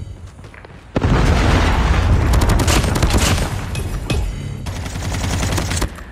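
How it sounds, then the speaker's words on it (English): In Call of Duty Mobile multiplayer, a Predator missile strike lands with a sudden heavy boom, followed by sustained loud rolling explosions and rapid bursts of gunfire crackling close by. "Predator missile inbound."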